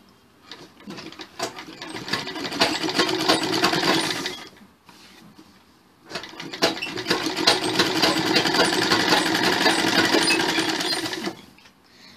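A sewing machine stitches blouse fabric in two steady whirring runs of about four and five seconds, separated by a short pause, loud and close.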